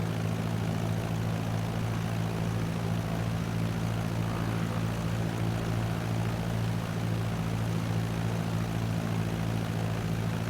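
Propeller aircraft engine in a flight simulator game, throttled up into a loud, steady droning hum that holds without a break throughout.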